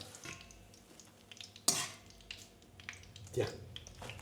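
Eggplant pieces fry in oil for caponata, a soft crackling sizzle broken by a couple of sharp stirring or splashing bursts as pieces are moved in the pan.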